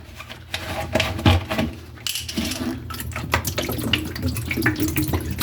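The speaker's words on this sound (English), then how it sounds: "I'm going to pour the bleach directly on here first." Bleach water pours and splashes steadily into a bathroom sink basin, a continuous watery rush with a few clinks and knocks of handling nearby.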